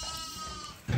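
A ewe with her lambs bleating close by on a farm after dipping, a steady mid-level animal call through most of the second before a louder burst at the end.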